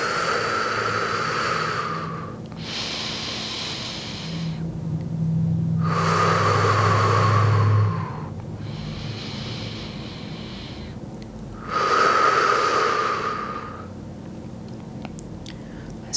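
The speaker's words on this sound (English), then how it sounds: "Big full inhales through the nose. And slow, complete exhales through the nose or mouth." Deep, slow yoga breaths move in and out through the nose and mouth in close, airy rushes, with about three long exhales several seconds apart and softer inhales between them, alone over a faint low hum.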